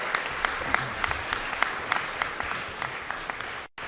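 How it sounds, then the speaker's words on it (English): Audience at a New York infrastructure funding announcement with state lawmakers applauding steadily, a dense run of hand claps with sharper individual claps standing out, ending in an abrupt cut. "Let's give them a round of applause."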